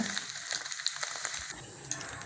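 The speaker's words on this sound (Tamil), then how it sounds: "கொஞ்சம் அப்படியே வறுத்து எடுத்துடலாங்க" Paneer pieces fry in butter in a pan, giving a steady, fairly quiet sizzle with light crackles and a few small pops, and no voices.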